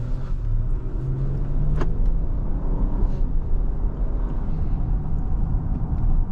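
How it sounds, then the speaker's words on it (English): A 2025 Infiniti QX80's twin-turbo V6 engine hums steadily at a low, even rumble, heard from inside the quiet cabin with no talking. "And I love the engine. It's a V6 twin turbo with 450 horsepower"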